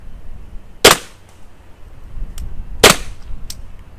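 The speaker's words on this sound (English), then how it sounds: "we'll shoot at a target that isn't Dan" A PepperBall TCP launcher fired at a target on an outdoor range, two sharp, loud pneumatic shots about two seconds apart, each followed by a faint smack or echo.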